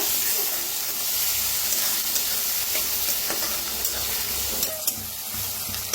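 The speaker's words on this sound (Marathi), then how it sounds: "आता ह्याच्यात टाकायची थोडीशी कोथिंबीर। कोथिंबीर बरोबर असं भाजायचं" Onion, tomato and coriander frying together in a pan, a dense continuous sizzle with occasional spoon scrapes and taps, close up and without speech.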